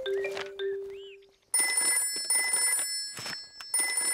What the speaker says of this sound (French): Oh, c'est le téléphone pour les cas d'urgence.